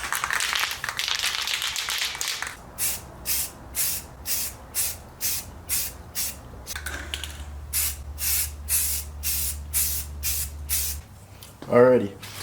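An aerosol can sprays light coats of paint onto engine pulleys in a long hiss followed by a regular series of short bursts, close and loud, with a low hum beneath the later bursts.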